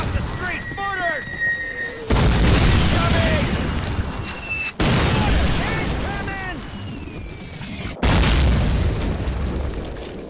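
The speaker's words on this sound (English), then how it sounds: "the mortars are taking a break" Heavy mortar explosions in the video game Call of Duty (2003) at a village at dawn, several loud booming blasts spaced a few seconds apart, with whistling incoming rounds and battlefield noise between them.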